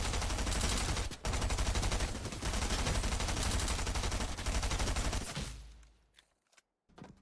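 Rapid SMG fire in Fortnite aim training rattles in continuous bursts for about five seconds, loud and close, then stops, leaving a few faint game sounds.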